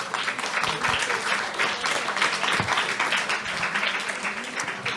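An audience applauds at the close of a round-table discussion, steady dense clapping that fills the whole stretch at a fairly loud level, with no voices over it.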